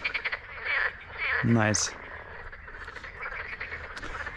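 Frogs croak loudly at night beside a wild lake during a carp fishing session after a flood. There is a burst of rapid croaking, a sharp higher call, and ongoing calls, while someone speaks briefly nearby.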